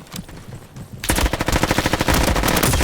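Rapid automatic gunfire in a Roblox shooting game, starting after a brief quieter stretch and then firing as a dense, steady burst of close, loud shots.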